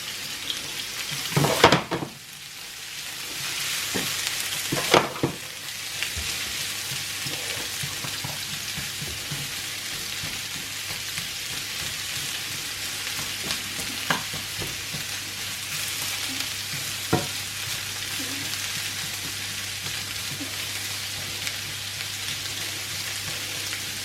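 Sliced onions for caramelised onion gravy cook gently in a pan over turned-down heat, giving a steady soft sizzle broken by a few sharp clacks of a utensil early on.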